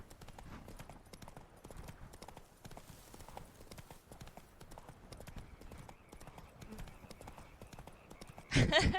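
Hooves clip-clop in a quick galloping rhythm as a horse runs in The Witcher 3: Blood and Wine, fairly quiet, with a louder burst of sound at the very end.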